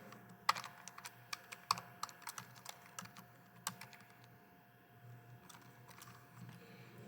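Typing on a computer keyboard while entering an equation into a graphing calculator, quiet irregular clicks and short bursts of keystrokes at close range with no talking.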